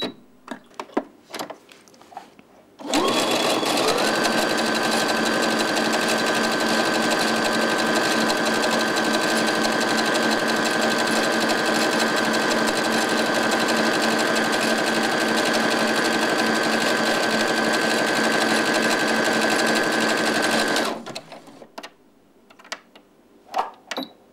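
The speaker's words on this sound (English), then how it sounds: "I'm just going to go for a very simple zigzag stitch, and to do that on this machine I turn my dial." A domestic sewing machine running a zigzag stitch, a steady fast mechanical whir that starts after a few seconds of handling clicks, holds for about eighteen seconds, then stops into more light clicks.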